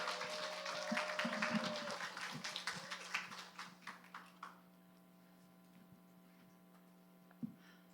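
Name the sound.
church congregation applauding to welcome a speaker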